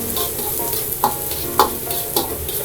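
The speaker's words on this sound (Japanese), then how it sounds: "少し玉ねぎの、色がですね、透明感が出るまで炒めていきます" Onions stir-fried in a pan over medium heat for a spicy hot-pot-style beef noodle dish: a steady close sizzle broken by three brief spatula scrapes, with no talking.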